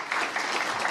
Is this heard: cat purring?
no